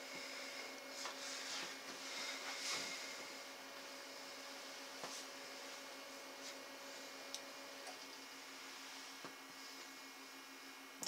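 A Stinkboss drying and deodorizing machine running, a steady tonal hum and electric whine with faint clicks and ticks, constant and close throughout, with a small knock near the end and no talking.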